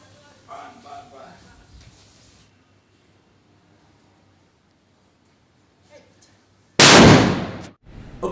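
A loud explosion blast bursts out of a played video clip, a sudden wideband boom that holds for about a second and a half and then cuts off. Talk and quiet room sound come before it.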